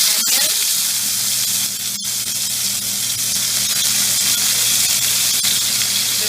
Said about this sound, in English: We're going to put the mustard seeds and we're going to wait till it sputters